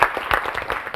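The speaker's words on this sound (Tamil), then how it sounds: "தயாரா எங்க யோகித்காக ஒரு அரங்கம் நிறைந்த கைத்தட்டல் கொடுங்க." A hall audience at a Tamil speech competition claps in a dense burst of applause, steady and close, lasting about a second.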